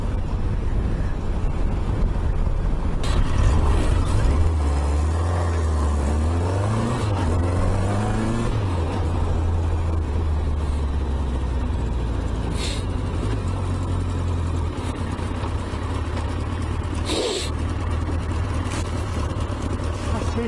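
Motorcycle ridden along a road, a steady engine drone under heavy wind rush, its pitch rising and falling with a few gear changes, and a voice heard now and then over the engine.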